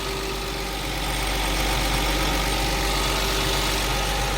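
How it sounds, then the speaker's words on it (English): A Lexus IS200 engine idles smoothly after spark plug replacement, a steady, even low hum holding at a constant level throughout, near and without talking. "The engine is running just smooth."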